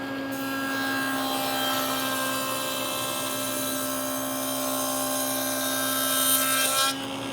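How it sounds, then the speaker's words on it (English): A table saw with a dado blade stack cuts a half-inch by half-inch test rabbet in wood, a loud, steady whirring drone with a grinding cut lasting several seconds. "Let me set the height and do a test cut"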